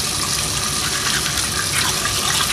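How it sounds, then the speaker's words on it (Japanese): Running tap water pours steadily into a sink while a character brushes his teeth in the video game Heavy Rain, a continuous close rush with no break. "ゲームで、歯を磨いております。"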